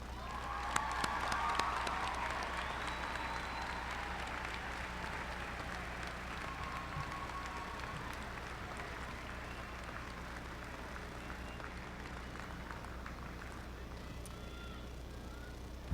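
Sustained applause from a large audience at a college undergraduate commencement ceremony, steady and dense for many seconds, heard from a distance with a few scattered cheers.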